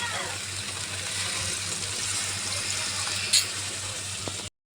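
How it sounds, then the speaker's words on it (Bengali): Water pours steadily into a pan of vegetarian chana masala in a home kitchen, a continuous close splashing gush that stops abruptly near the end, with no talk. "এবার আমি এটায় জল দিয়ে দেবো।"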